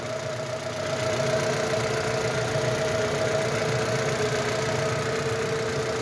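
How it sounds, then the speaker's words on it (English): A 2020 Jeep Cherokee engine idles steadily and evenly throughout with a low, constant hum and faint mechanical vibration, nobody speaking. "Okay, with the motor running."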